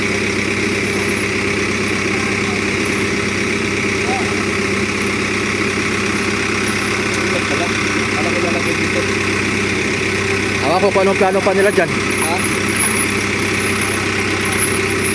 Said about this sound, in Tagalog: Bigat na makina ano.